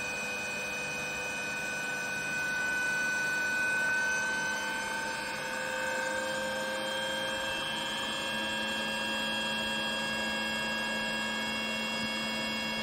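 A 3-phase permanent magnet generator driven by a synchronous motor runs at steady speed, giving a continuous electrical hum with several sustained whining tones that hold level throughout.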